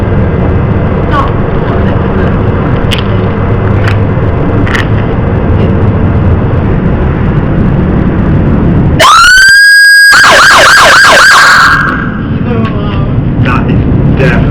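An American police car siren sounds on UK roads, first as a distant wail under traffic and road noise, then a sudden loud close-up burst of siren tones lasting a couple of seconds before fading back into the street ambience.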